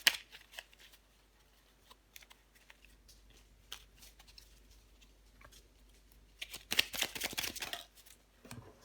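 Tarot cards being shuffled and drawn, quiet scattered flicks and taps, then a louder burst of riffling near the end, close by in an otherwise quiet room.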